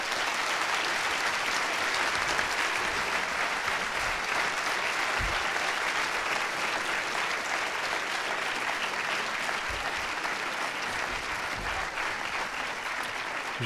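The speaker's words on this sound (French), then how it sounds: "Je crois qu'on peut l'applaudir." Sustained, even audience applause fills a conference hall after a talk on secularism in schools, steady and dense from start to finish with no voices rising above it.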